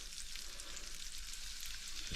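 Battered pieces of fish or squid drop into hot oil in a pan and fry with an even, continuous crackling hiss, fairly faint and uninterrupted, with no talking.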